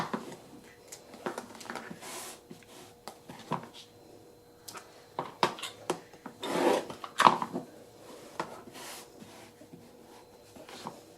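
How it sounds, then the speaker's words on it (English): A quilt block's edges are trimmed to a quarter-inch seam allowance, producing close rasping cuts and rubbing strokes in irregular bursts with brief quiet gaps. "we'll trim each side to a 1/4 inch seam allowance."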